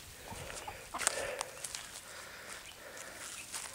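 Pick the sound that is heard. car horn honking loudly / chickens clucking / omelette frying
chickens clucking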